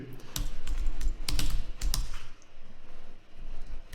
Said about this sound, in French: Et vous allez taper ce que vous voulez.